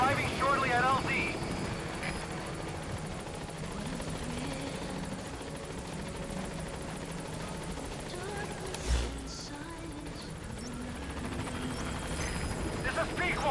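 A helicopter in Metal Gear Solid V: The Phantom Pain drones steadily as it approaches a landing zone, with a continuous rotor and engine rumble that swells briefly midway, heard alongside game sounds.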